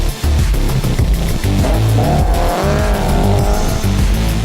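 Classic BMW rally car driven hard on a dirt stage at a rally event, engine roaring loud and close with revving, tire squeal and skidding throughout, no talk.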